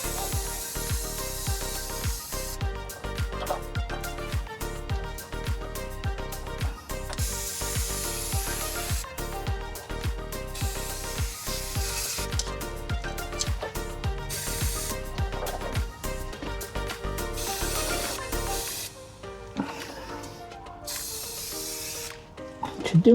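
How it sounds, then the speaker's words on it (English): Chain lube sprays during repair work on a Ford Transit van as a long run of steady, close hissing bursts with rhythmic pulsing throughout, then a brief quieter stretch near the end. "What I'll do is use this chain lube."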